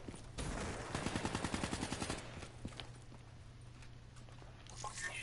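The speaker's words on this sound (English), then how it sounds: "What are you shooting at?" Rapid burst of gunshots crackles in a quick rhythmic string, fairly close, then trails off into quieter scattered pops and background noise.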